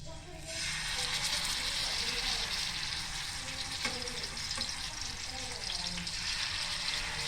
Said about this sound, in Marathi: असं आता आपण चिकन टाकून घेतलेलं आहे. आता ते आपण फ्राय करून घेऊया.